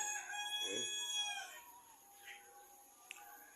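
Free-range village chickens crowing and clucking close by, a long rooster crow trailing into softer fowl calls, with faint chirps and a sharp tick near the end.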